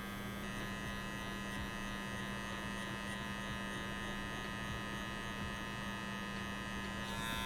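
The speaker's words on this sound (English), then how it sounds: "we're going to go in with our clipper open first, no guard" An electric hair clipper buzzes steadily as it cuts hair with the blade open and no guard on a taper fade, a close, even hum that runs without a break.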